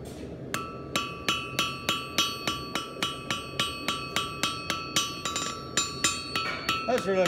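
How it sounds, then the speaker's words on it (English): Rapid, evenly spaced hammer strikes on a hand-forged metal heart pendant ring out close by, each with a bright ringing tone, about three blows per second throughout. "I'm gonna hammer down this face and smash that to get rid of that."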